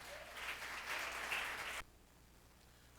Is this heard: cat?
no